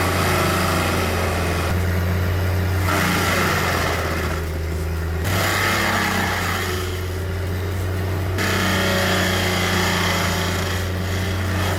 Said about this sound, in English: Mixing a 12-pack of beer with a running chainsaw is a bold strategy.